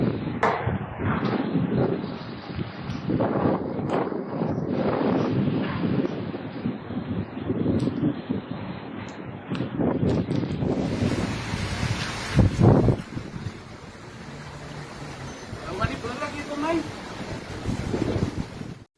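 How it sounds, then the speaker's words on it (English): Gale-force storm wind sweeps across Cape Town, a steady, heavy roar of broadband rushing noise with gusty swells that holds for the whole stretch, while a voice talks over it. "These are gale force conditions capable of uprooting mature trees, tearing roofs from buildings"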